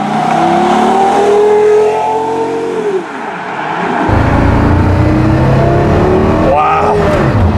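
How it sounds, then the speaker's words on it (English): Porsche Carrera GT engine accelerating at quarter throttle, a loud rising howl climbing in pitch through a gear, then a brief dip and a renewed rise with a deeper rumble, heard close and largely alone with faint talk. "God, that's about a quarter throttle."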